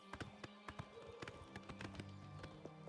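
A horse's hooves clatter over steep mountain rock in The Elder Scrolls IV: Oblivion, a busy run of close, uneven clip-clops stretching through the moment over a low ambient hum.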